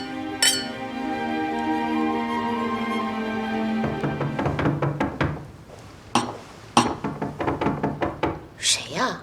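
Glasses clink in a toast during a scene from a Chinese TV drama, with sharp, bright taps and knocks following a stretch of sustained tones, with voices also present.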